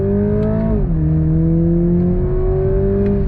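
A 2022 Toyota Supra 2.0 engine holds a steady drone, dips in pitch briefly, then climbs again under load on throttle, loud and close throughout.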